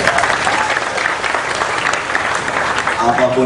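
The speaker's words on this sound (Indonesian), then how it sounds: "Tepuk tangan untuk Indonesia." Sustained, loud audience applause at a formal Indonesian cultural dialogue event, a dense steady clapping that fills the whole stretch with no pauses and no speech.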